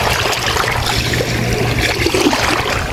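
Water trickling and splashing as a sea crab is rinsed in river water near a beach, a steady close wash of liquid running and dribbling throughout with no talk.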